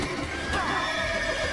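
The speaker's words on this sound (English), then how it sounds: "The horses have gone mad." Horses in the Witcher 3 game shrieking and whinnying loudly and close, a wavering neigh rising over dense clattering hooves and commotion, with no speech.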